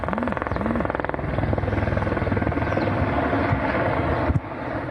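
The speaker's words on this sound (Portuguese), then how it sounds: "Até o helicóptero de uma empresa ajudou a combater as chamas." A company helicopter flies over a farm fire, its steady rotor chop loud and continuous throughout with a broad roar.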